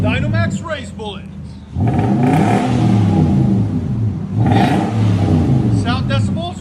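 A Nissan Titan 5.6L V8 with its muffler cut off and Dynomax race bullets fitted, its exhaust rumbling loud and close in two long revving surges, with people talking over it.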